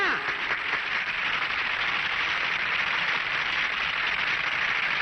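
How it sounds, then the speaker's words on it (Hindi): A crowd at a village gathering in a 1993 film claps hard and continuously, a thick, even wash of applause that holds at the same loudness with no pauses. "तालियां!"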